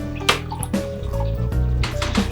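Cold water poured into hot water to cool it for bread yeast, a close splashing and trickling pour with uneven gurgles and drips over a couple of seconds.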